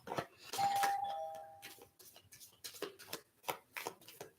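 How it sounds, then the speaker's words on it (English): A single electronic doorbell chime rings clearly, followed by soft rustling and tapping sounds nearby. "I hate when my doorbell rings"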